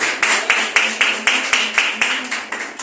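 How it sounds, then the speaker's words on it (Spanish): Audience applause in a church service, rhythmic unison clapping at a steady beat of roughly four claps per second, loud and close, with no talking over it. "Denle un aplauso al Señor porque la mano de Dios es poderosa."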